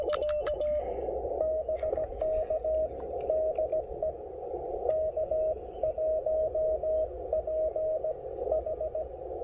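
A clear single-pitch Morse tone beeps out short dot groups for the letter H, repeated over and over against a low radio hiss.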